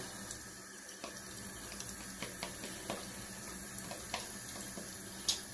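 A water tap runs steadily into a bathroom sink during a straight razor shave, with a constant soft hiss and a few light splashes and clinks, faint and without talk.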